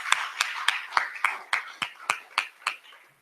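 An audience claps in about ten distinct, evenly spaced loud claps, steady and close, rather than a continuous roar, with no talk over it.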